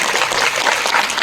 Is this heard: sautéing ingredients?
no